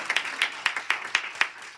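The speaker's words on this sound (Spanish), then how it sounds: "Dele un aplauso al Señor de gratitud." Sparse, uneven handclaps at a church service, about seven sharp claps spread over under two seconds, moderately close and not very loud.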